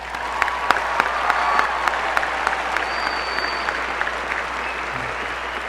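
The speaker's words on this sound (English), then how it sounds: "So let's give us a big round of applause." A high school graduation audience breaks into steady, full applause, a dense wash of clapping with a few distinct sharper claps and faint cheers standing out near the front.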